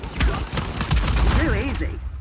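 A grenade goes off in a private match of Uncharted: The Lost Legacy, a burst of booming thuds and rattling gunfire-like blasts, with game voices and a rising and falling warbling effect over the top.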